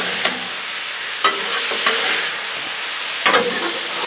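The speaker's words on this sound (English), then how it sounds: "it is not taking long at all for this steak and these veggies to cook up" Steak and vegetables cooking on a Blackstone griddle, a steady loud sizzle with a few metal spatula scrapes and clanks, nobody talking.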